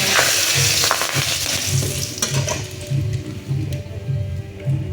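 Bay leaves frying in hot oil in a home kitchen pan, after potatoes were fried: a loud, continuous sizzle with crackling bursts and occasional stirring scrapes, close up and without talk.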